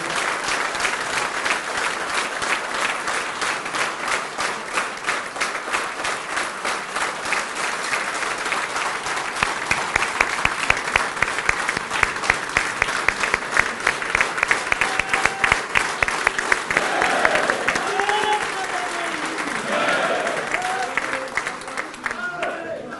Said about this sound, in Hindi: एक ऐसी ताली बजनी चाहिए हमारे राष्ट्रीय अध्यक्ष के लिए